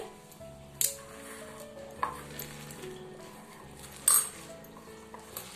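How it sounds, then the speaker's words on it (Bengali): Dry pakora batter with coconut and onion being mixed by hand in a bowl, heard as soft rustling with a few sharp clinks against the bowl, fairly quiet and close. "প্রথমে আমি আগে শুকনো অবস্থাতে একটু মেখে নিচ্ছি।"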